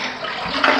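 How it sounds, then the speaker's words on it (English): A household toilet flushing after its lever is pressed, a brief close rush of water in a newly plumbed bathroom, heard alone. "it flushes! We have flush toilets!"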